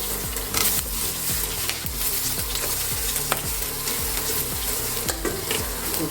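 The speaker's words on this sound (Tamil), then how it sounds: "பூண்டு பச்சை மிளகாய் கருவேப்பிலை எல்லாம் சேர்ந்து இந்த எண்ணெய்க்குள்ளே நல்லா வதக்கணும்" Garlic, green chillies and curry leaves sautéing in hot oil for a spinach kootu, a loud continuous sizzle broken by regular rhythmic scrapes of a spoon stirring the pan, with no voices.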